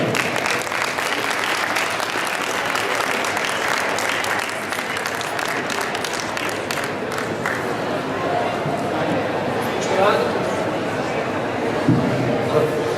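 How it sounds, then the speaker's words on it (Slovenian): Audience at a university event gives a speaker a long round of applause, steady and fairly loud for over ten seconds, with some chatter and a few footsteps mixing in toward the end. "En velik aplavz prosim za gospoda Janeza Levca."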